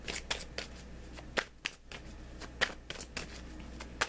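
A deck of tarot cards is shuffled close by in quick bursts of riffling and flapping, with brief pauses between bursts and a low hum underneath.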